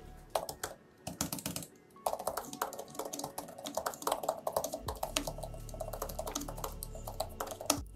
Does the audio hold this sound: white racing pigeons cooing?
no